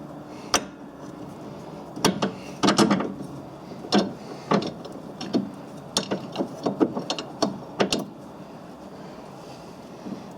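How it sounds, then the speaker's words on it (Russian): Sharp metallic clicks and ratcheting bursts from a wrench tightening the rear stabilizer link nuts on a Ford Focus 3, irregular and close, over a quiet background. "Закручиваем сначала верхнюю, а затем нижнюю гайку."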